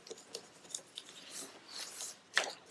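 Scissors cutting paper for a handmade birthday card, with soft scattered snips and rustling close by and a sharper snip near the end. No one speaks.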